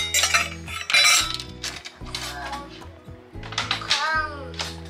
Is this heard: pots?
yes